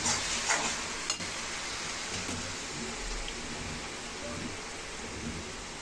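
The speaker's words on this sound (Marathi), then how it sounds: "ही मिरची, लसूण, अद्रक हे आपलं चांगलं फ्राय झालं पाहिजे" Green chili, garlic and ginger frying in hot oil for vada pav, a steady close crackling sizzle with a few sharp clatters of stirring near the start.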